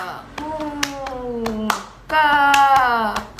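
Indonesian scouts perform tepuk pramuka, a rhythmic scout clapping routine: sharp, evenly spaced hand claps ring out close and loud, mixed with sung or chanted voices that pause briefly midway.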